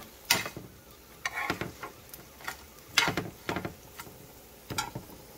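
Meat browning in a frying pan for aporreado, a Guerrero-style dish: an irregular crackling sizzle with scattered sharp pops and stirring clicks, moderately close, with no voices.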